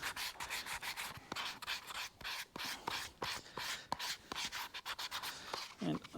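A wooden car wheel from a 1925 Dodge Brothers Touring Car is hand-sanded with 180 grit sandpaper, giving quick, rhythmic back-and-forth rubbing strokes that are close and fairly quiet, with short pauses between them.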